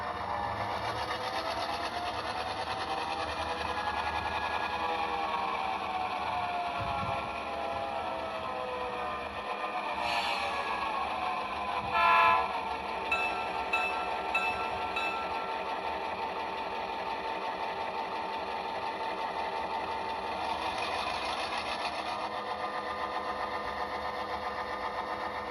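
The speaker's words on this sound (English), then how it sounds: "Here's a quick demonstration of the Locomotive for all of you. So you just look at how slow it creeps now." An HO scale model locomotive creeps slowly along a switching layout, giving a steady, continuous mechanical whir and hum throughout, with a few brief clicks and rattles midway and no talking.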